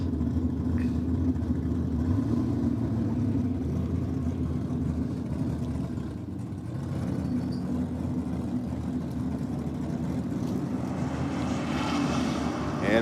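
Drag racing cars, including a green ute, launch down the strip with a continuous loud, close engine roar that holds steady for the whole stretch without any voices.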